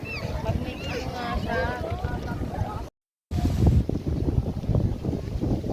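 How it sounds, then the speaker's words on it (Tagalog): Strong wind buffets the microphone in rough gusts at Tagaytay on New Year, with people talking over it; a brief cut interrupts the sound midway. "Mahangin."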